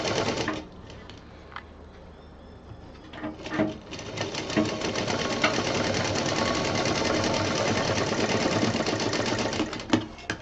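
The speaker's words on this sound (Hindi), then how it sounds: "यहाँ पर एक प्लेट देते हुए इसको सिल देंगे।" A sewing machine stitches an expandable handbag, with a plate sewn in. Some brief handling and clatter come first, then a close, steady, rapid run of stitching fills the rest.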